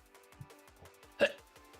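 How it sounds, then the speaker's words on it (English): One brief, sharp hiccup sounds from a person in the middle of casual conversation, a single quick catch standing out over the steady talking. "Oh, hiccups, okay."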